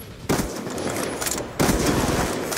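Rapid video game gunfire from a Call of Duty-style kill cam replay, with dense automatic bursts and a sharp jump in loudness partway through, continuous and loud with no talking.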